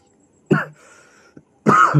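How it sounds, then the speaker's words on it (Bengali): Two harsh, loud coughs from a person teaching an English class, close to the microphone and separated by a short pause with a faint breath between them. "সরি কাশি হচ্ছে"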